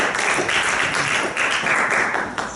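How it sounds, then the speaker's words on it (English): People at a meeting give a round of applause, a steady wash of clapping that holds at an even level and eases off at the end. "So please give a round of applause to Adi."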